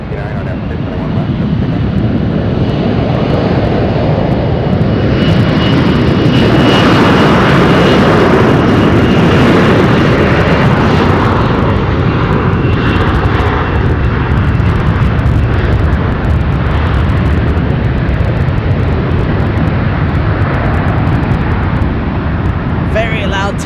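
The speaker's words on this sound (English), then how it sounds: "Very loud takeoff" An American Airlines jet takes off at San Francisco airport with a very loud, sustained roar that builds and holds broad rumble throughout; a faint voice is heard underneath.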